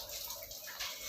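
Water rushing steadily through the filter of a Livpure Envy alkaline RO water purifier during flushing, a continuous hissing flow heard close up with slight swells, no talk.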